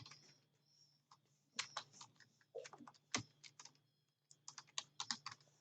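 A computer keyboard is tapped in short, uneven bursts of quiet, close keystrokes with brief pauses between them, as a name is entered into a spreadsheet cell, with no voices.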